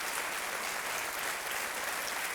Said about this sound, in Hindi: एक बार तालियों के साथ इनका अभिनंदन करते हैं